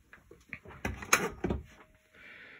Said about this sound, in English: So right now I am just closing the door,